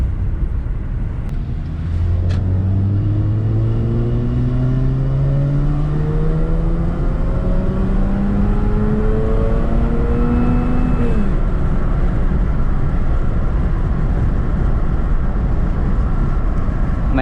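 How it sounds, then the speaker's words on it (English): A Mazda RX-8 with a rotary engine and automatic paddle-shift gearbox revs up steadily and loudly, its pitch climbing in long sweeps over about ten seconds before dropping off, with a rough continuous drone underneath throughout. "Man, I just love the sound of the rotary."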